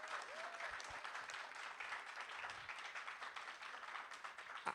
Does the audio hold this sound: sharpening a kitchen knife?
no